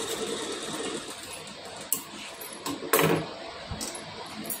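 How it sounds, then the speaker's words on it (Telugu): A sewing machine stitching a blouse hums steadily up close, broken by a few sharp clicks and clacks of the mechanism, with no voices. "ఇలా కుట్టు వేసుకొని"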